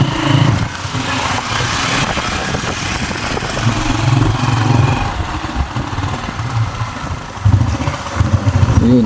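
A motorcycle engine idles steadily outdoors, a low, continuous mid-pitched rumble that wavers slightly in strength with no talking over it.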